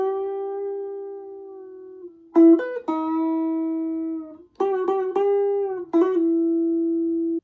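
A clean guitar plays the fingerpicked intro to a song, with long ringing notes broken by quick plucked note changes and short runs, alone and close.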